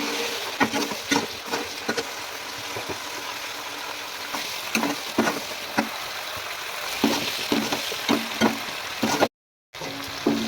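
Half a kilo of chicken browning with garlic and onion in a single pan gives a steady close sizzle, broken by repeated scraping stirs.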